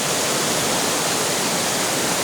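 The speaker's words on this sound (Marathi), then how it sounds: "असा जोरदार हा झरा वाहत आहे पाण्याचा" A mountain stream in the Konkan rushes steadily, a dense, loud wash of flowing water with no pauses.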